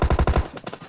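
Automatic gunfire in the mobile shooter PUBG Mobile on the new Erangel map: a loud, close burst of five rapid evenly spaced shots, followed by fainter, more scattered reports trailing off.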